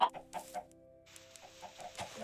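Minecraft chickens cluck in short bursts, several soft clucks and squawks spaced unevenly over a couple of seconds, with a faint sustained tone in the background and no talking.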